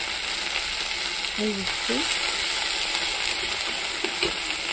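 Spice paste with tomato sizzles and fries steadily in a pan for a pointed gourd curry, a constant close hiss with a few faint scrapes of stirring and a brief spoken word.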